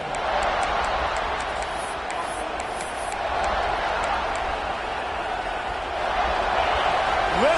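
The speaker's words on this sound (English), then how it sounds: "Listen to this crowd just shaking the girders of this place, trying to help their defense" A packed football stadium crowd roars continuously as fans cheer on their defense, a dense loud wash of voices with whistles on top, under no distinct talk.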